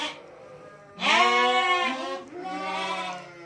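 Young goat kids bleat in snowy weather on a farm, two loud, close, wavering cries in succession with a short pause between, no voices.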